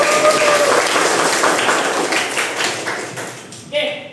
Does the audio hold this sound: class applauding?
yes